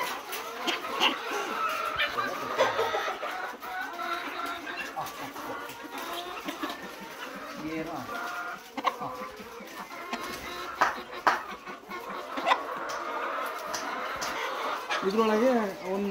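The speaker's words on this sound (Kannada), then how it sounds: "ಇವೆಲ್ಲ ಪಕ್ಕ ಜವಾರಿ ಕೋಳಿಗಳು." Native country chickens cluck and chatter in a farmyard, with intermittent calls heard under ongoing conversation nearby.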